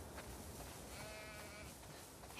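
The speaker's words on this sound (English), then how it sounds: "We definitely have way too many sheep." A single sheep bleat in the video game The Last of Us Part II, faint and short, rising out of a quiet background.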